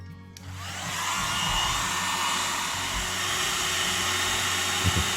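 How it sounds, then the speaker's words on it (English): A hair dryer blowing hot air onto the torn stopper of a double-ended snow globe switches on abruptly, then settles into a loud, steady whooshing roar with a faint low hum beneath. "So we're going to try heating this up with a hair dryer"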